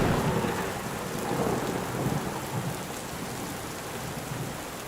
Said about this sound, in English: Because it may be raining outside.